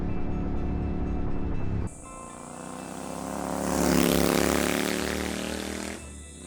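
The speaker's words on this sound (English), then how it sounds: "wind the throttle open and see how fast you can go on it." A custom-built motorcycle from the Project Delta build roars up to speed on an open road, its engine note swelling loud and close with rising tone, then easing off near the end; no one speaks.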